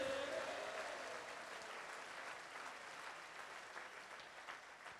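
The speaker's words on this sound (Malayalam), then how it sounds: "കരങ്ങൾ ഉയർത്തി കൈയടിച്ചേ" A congregation at a one-day Bible convention claps hands together in sustained applause, loud at first and gradually tapering off, with faint voices mixed in.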